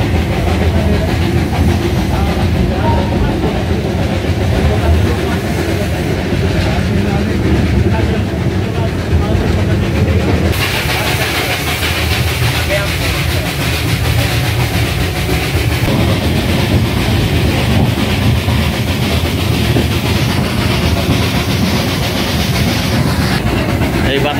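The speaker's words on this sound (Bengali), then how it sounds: "এই একটা বগিরই ট্রেন, কখনো দুটো বগি দেয়।" A single-coach Darjeeling toy train runs on mountain rails near Batasia Loop with a loud, continuous rumble and rattling clatter heard from on board, and people speak over the noise.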